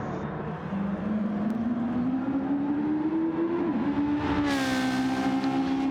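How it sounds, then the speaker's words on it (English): A race car engine in a GT racing video game, at Spa-Francorchamps, revs high and climbs in pitch, holding a loud, sustained whine with a brief dip before rising again. "It's the car with high revs, and I think it sounds very nice."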